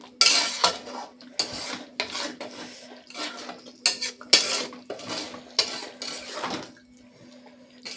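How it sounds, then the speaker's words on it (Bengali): Chicken being stirred in a pot with a metal utensil, giving repeated clattering scrapes and knocks in an uneven rhythm, close and fairly loud, with no talking. "আবার একটু নাড়াচাড়া করে নেব, দিয়ে চিকেনটাকে আমি নামিয়ে নেব।"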